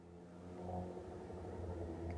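A run-down car's engine revs in a steady, swelling low rumble, faint and heard on its own without talking.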